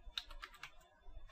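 Keys clack on a computer keyboard as a command is typed into a terminal, a quick run of close, crisp taps in short bursts with a last click at the end, no voices.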